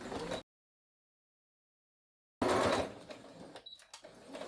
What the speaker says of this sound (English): Remember to do a reverse stitch and secure the knot.